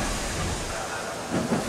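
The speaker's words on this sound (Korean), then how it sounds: "헨리는 증기를 내뿜었어요." Henry the Green Engine, a cartoon steam locomotive from the Railway Series, lets off steam in a steady, loud, broad hiss that swells slightly toward the end.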